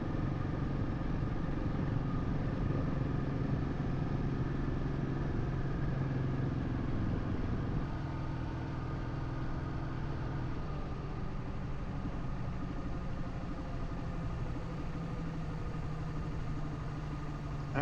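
A motorcycle engine runs continuously during a long touring ride near Stockholm on a Baltic trip, giving a steady mid-pitched drone with a slight change in tone partway through, loud and close, with no speech.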